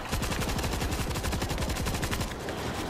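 A big gun in World War Z fires a rapid, steady burst of shots, each crack close and loud in an even rhythm, running almost three seconds before easing off.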